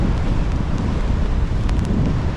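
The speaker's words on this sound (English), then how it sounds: "I can't put my umbrella up, it's too windy." Loud, continuous wind buffets the microphone on a stormy Yorkshire beach, with a deep, rumbling roar that never lets up.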